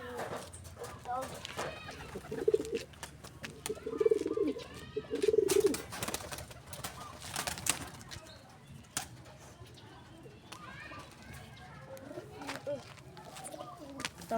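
Pigeons coo in a series of low, throaty calls, with three clear phrases in the first six seconds and softer cooing later, close by over a busy background of other noise and faint voices.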